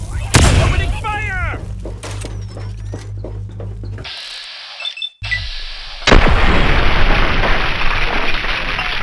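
Weapons fire in the video game Fallout 3: Mothership Zeta: sharp, booming shots and blasts in quick bursts, cut by a brief near-silent gap, then a dense, loud clatter of continued firing.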